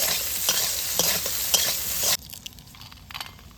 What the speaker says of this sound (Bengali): ভালো করে বেগুনটাকে ভেজে নিতে হবে।